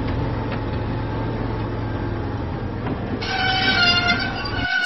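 The diesel engine from a Thomas & Friends children's train game rumbles steadily along the track through the countryside, with a low continuous drone. Near the end a brighter whistle-like tone rises over it, then the sound cuts off.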